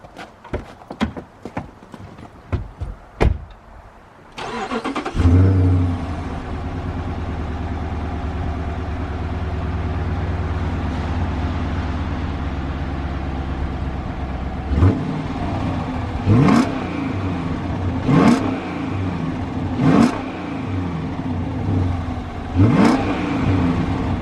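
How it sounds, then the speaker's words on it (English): Stock exhaust of a Dodge Charger with the 5.7L HEMI V8, parked at a garage: the engine starts and settles into a steady loud idle, then several sharp throttle revs rise and fall in quick succession near the end. "I'll give you some revs of the stock exhaust"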